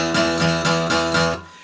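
A plucked acoustic guitar sounds an E octave, two notes repeated in a quick, even rhythm, ringing brightly up close before cutting off.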